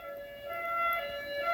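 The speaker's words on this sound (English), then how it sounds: "Ambulance is going through." An ambulance siren passes at a distance, a thin steady electronic tone with faint harmonics over quiet background, brief and moderately faint.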